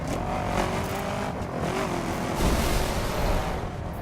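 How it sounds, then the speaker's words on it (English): A car engine in the racing video game The Crew drones and revs continuously, with a brief surge in loudness partway through, its tone shifting as it accelerates. "Let's just listen to this engine sound."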